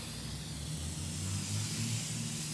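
Super Clean degreaser aerosol sprays in a continuous close hiss lasting the whole moment, steady and unbroken, with no talking.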